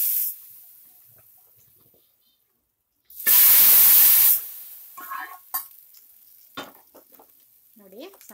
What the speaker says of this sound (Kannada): ನೋಡಿ, ಒಗ್ಗರಣೆ ಹಾಕ್ತಾ ಇದ್ದೀನಿ ನಾನು ಸಾಂಬಾರ್ಗೆ.